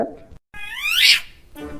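A cat gives one clear, drawn-out meow close by, rising then falling in pitch, with brief background talk at the edges.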